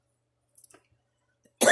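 After near silence broken by a few faint clicks, a single loud, sharp cough erupts abruptly and is cut off at the end.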